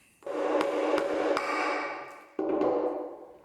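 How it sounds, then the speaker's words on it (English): A hammer hits a nail used as a nail punch to drive out other nails, giving three quick sharp strikes close together, each followed by a ringing tone, then a fourth strike after a pause that rings out again. "used that like a nail punch with a hammer to punch out the other nails"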